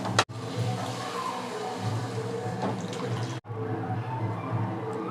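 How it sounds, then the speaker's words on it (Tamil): Water pours steadily into a pan of Tamil-style egg gravy during cooking, a continuous splashing rush with a brief break partway through. "இது கூட கொஞ்சம் தண்ணி சேர்த்துங்க"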